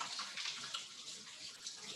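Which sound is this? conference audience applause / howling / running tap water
running tap water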